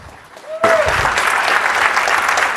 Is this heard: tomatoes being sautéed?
no